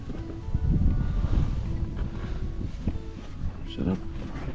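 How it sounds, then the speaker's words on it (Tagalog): Strong wind buffets the microphone in low, gusty rumbles at a campsite between mountains, with a person talking intermittently over it. "napakalakas ng hangin dito mga kol"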